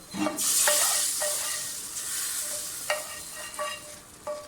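A spoon stirs whole moong dal with fresh coriander in a hot pot, making a steady sizzle broken by several sharp scraping knocks against the metal.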